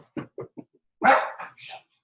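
Pet dog in a home, a few quick soft yips followed by a louder, sharper bark and a short whining yelp, close by with quiet gaps between.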